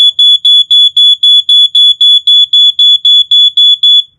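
A loud, piercing First Alert SA88 smoke alarm, sounded with its test button, beeps in a rapid, even series of about fifteen short tones, then stops.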